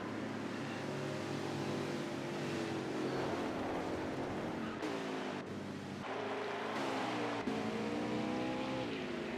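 Race cars on the track at Homestead in a Winston Cup event, a continuous blend of engine drones whose pitch sweeps and shifts as cars pass, heard as a faint, distant broadcast without talk.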